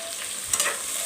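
Potatoes frying in hot oil, a loud close hiss and crackle that stays steady through the whole brief moment with no voices.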